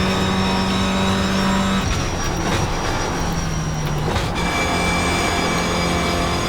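Toyota GR86 race car in the iRacing sim at Willow Springs, its engine droning steadily and labouring up a hill, a continuous loud hum with shifting pitch and no talk.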